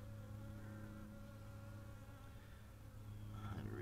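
Honeybees hum at a backyard hive entrance while foragers carry in pollen, a steady low drone of many wings close by without talking.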